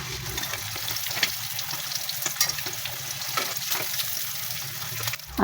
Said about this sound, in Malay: Goreng ikan hingga garing sedikit ya.